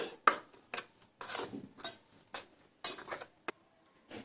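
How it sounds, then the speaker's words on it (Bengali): A spoon beats salt and turmeric powder in a small bowl, giving a series of quick, irregular clinks and taps close by, with short pauses between strokes and no talking. "নুন হলুদের গুঁড়ো আমি এইভাবে চামচ দিয়ে একটু ফেটে নিচ্ছি।"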